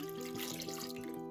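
Room temperature tap water pours into a bowl of sourdough bread dough, a steady faint splashing trickle with a ringing tone, heard alone.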